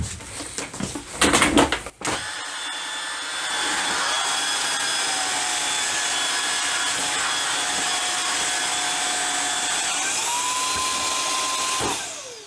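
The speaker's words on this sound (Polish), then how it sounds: "Tutaj odpalę odkurzacz bez mopowania" A few clicks and handling noises, then a cordless vacuum whirs up and runs with a steady high-pitched whine, shifting tone briefly before switching off.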